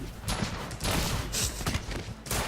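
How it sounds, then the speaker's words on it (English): Rapid, crackling gunfire in a video game match, a dense stream of overlapping shots and impacts filling a short stretch, loud and unbroken with no clear talk. "See the bullets flying."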